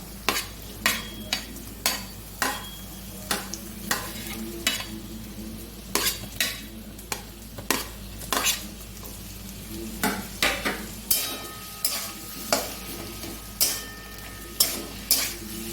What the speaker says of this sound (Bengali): সামান্য নাড়াচাড়া করে নেব